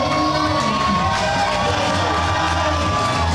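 A packed wrestling crowd cheering and shouting for the Magnum Pro tag team champions, a dense continuous roar with whoops, loud and sustained.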